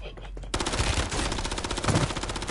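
Rapid automatic gunfire in the Warzone video game, dense sustained bursts that start abruptly after a brief quieter lead-in and stay loud throughout.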